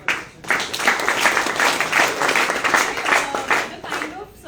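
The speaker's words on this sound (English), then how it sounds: "a big round of applause for that." A student audience at a health session gives a sustained round of applause, dense clapping that swells quickly and holds steady for several seconds before beginning to thin out.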